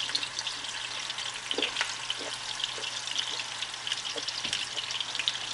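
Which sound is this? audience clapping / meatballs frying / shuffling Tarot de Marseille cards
meatballs frying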